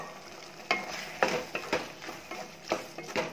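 A spoon stirs and mashes brinjal thokku cooking in sesame oil in a pan, giving soft, irregular scrapes and squishes over a faint sizzle, close and quiet.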